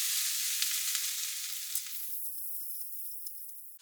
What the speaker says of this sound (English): I'm cooking my potatoes right now with my onion